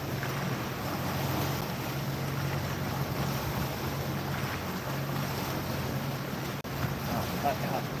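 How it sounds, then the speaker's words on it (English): A jet boat running on the Mississippi River gives a steady, loud broadband roar that blends with wind buffeting the microphone and water noise, and faint voices sit beneath it. "That's a jet boat."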